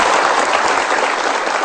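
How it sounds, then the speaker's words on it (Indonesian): A studio audience at an Indonesian talk show claps in dense, steady applause for a young guest, loud and close throughout the short burst. "Jadi saya pikir kita berikan tepuk tangan dulu untuk Gayatri."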